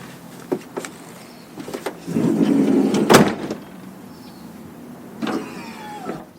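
A motorized step on a Sprinter camper van runs with a whirring motor hum that swells in the middle, along with mechanical clunks and a clack, heard close with no speech.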